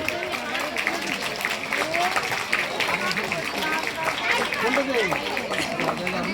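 An audience claps steadily through the first pose of a national bodybuilding competition, a dense continuous patter of hands beneath an announcer who speaks over it.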